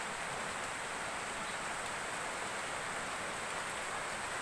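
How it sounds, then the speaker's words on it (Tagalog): Steady rain falling outside a house during the start of the rainy season, a dense even hiss that stays constant and fairly loud without pauses or voices. "Kasi umuulan."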